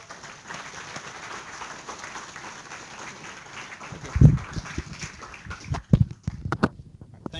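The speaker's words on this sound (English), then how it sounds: "let's give Blake a round of applause" Students in an engineering lecture hall applaud a speaker named Blake. A soft wash of clapping is followed by louder, uneven thumps and claps toward the end.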